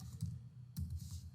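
Quick keystrokes on a computer keyboard while entering a search value during a browser test setup, a short run of close, soft clicks in an uneven rhythm.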